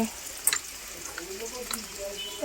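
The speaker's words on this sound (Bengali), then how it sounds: "এখানে দুটো মাংসের জন্যই আমি আলু একসাথে ভেজে নিচ্ছি" Potatoes fry in a wok on a home stove, giving a soft, steady sizzle broken by occasional stirring clinks. A person speaks over the cooking.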